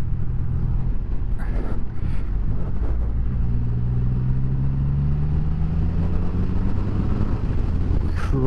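A Triumph Rocket 3 GT motorcycle's large engine pulls hard under acceleration, a loud continuous low rumble with rising tone, heard from on the bike over wind noise.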